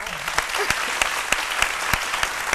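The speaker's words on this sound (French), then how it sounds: "J'attends des applaudissements." Studio audience applauding on the set of a French-language Ivorian midday TV show, steady dense clapping with sharp individual claps on top, moderately loud and continuous, with no talking.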